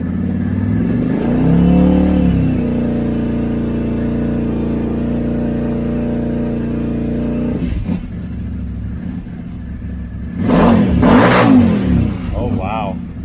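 A tuned Kawasaki Z950 motorcycle engine, loud and close, idles and swells through sustained revs toward 8,000 RPM, ending in a sharp burst of high rev blips.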